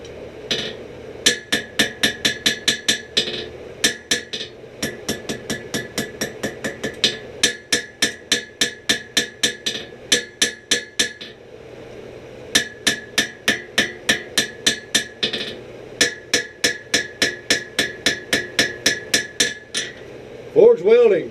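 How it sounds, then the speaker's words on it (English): Rapid bursts of ringing metallic hammer taps on hot forge-welded steel, sealing the weld, struck in quick rhythmic runs separated by short pauses. "you bring them out and you tap them with your hammer and you seal them up"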